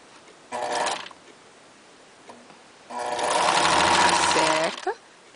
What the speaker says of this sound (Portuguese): E vai costurar em cima. Acerta. Costura em cima.